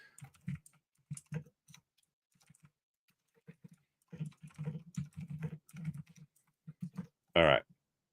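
Computer keyboard typing in short bursts of clicky keystrokes, with a louder clustered run near the end, close-up and dry with no speech over it.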